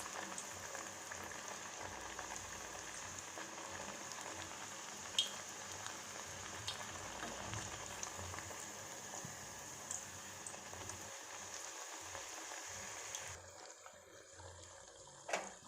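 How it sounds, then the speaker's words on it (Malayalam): Pathiri flatbread sizzles in hot oil with a steady, faint crackling hiss that drops away near the end. "ഇനി ഇത് നമ്മൾ ആ ഒരു സെയിം എണ്ണയിൽ തന്നെ അങ്ങ് പൊരിച്ചെടുക്കുക."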